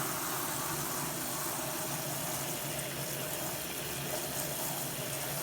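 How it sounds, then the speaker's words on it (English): During a fish tank water change, water pours steadily from a siphon hose into a sink, making a continuous close rushing wash with no pauses and no voices. "You're gonna submerge it down, and the water is just gonna start flowing."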